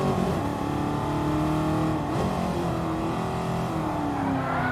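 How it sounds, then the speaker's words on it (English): A loud V8 engine of a De Tomaso Pantera race car in a racing video game roars steadily, its pitch climbing and dipping as it revs through gears, with no voices. "as you can hear, it has a very loud V8"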